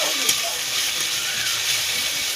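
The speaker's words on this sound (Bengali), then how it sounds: "রসুনগুলো হালকা করে ভেজে নেওয়ার পরে" Garlic paste sizzles in a hot pan for chicken biryani, a steady broadband hiss that stays even and close throughout with no pauses.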